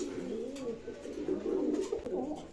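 Pigeons of breeds such as gorra and golla cooing together at a pigeon market, a soft, throaty, rolling chorus heard close and continuously.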